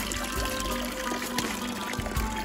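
Water from a mountain spring near Dagri Bangla, Nathiagali, Pakistan, pours and splashes in a steady, close gushing stream with continuous trickling texture.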